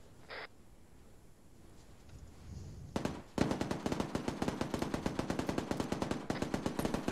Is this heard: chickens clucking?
no